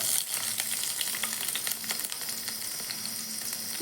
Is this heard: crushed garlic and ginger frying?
yes